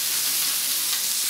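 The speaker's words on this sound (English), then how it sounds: "That's the sound of the beef sizzling." Beef sizzles steadily in a hot pan, a continuous bright crackling hiss up close with no voices.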